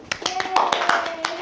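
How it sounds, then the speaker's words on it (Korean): A studio audience on a Korean talk show applauds a young overseas Korean in Portugal, with brief bursts of claps underneath ongoing talk. "박수 한번 보내드리죠"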